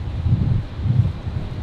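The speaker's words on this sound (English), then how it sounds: "It's very, very windy out here." Strong gusty wind at Brisbane Airport buffets the microphone in loud, low rumbling surges that rise and fall without pause, with no other sounds standing out.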